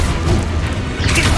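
A Confringo fire spell blasts in Hogwarts Legacy, a loud, close, rumbling boom that sustains for the whole moment with crackling, debris-like texture on top.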